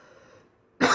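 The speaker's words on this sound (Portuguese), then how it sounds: "Tô com essa tosse terrível ainda" A single harsh cough bursts out loud and close after a quiet pause, at the very end of the clip.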